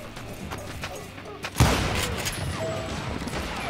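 Gunfire in the Western shooter Call of Juarez: Gunslinger, soft distant shots building to one loud close blast midway, followed by a lingering rumble.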